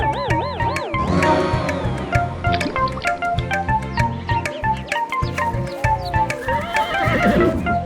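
A horse whinnies with a warbling neigh at the start and again near the end, over a steady clip-clop of hooves and a busy cartoon-style music backing.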